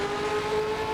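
A 1960s classic car engine drones steadily in the Assetto Corsa racing game, holding an even, sustained tone throughout with no noticeable revving or shifting.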